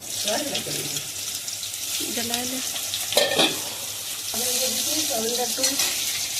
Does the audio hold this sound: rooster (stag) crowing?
no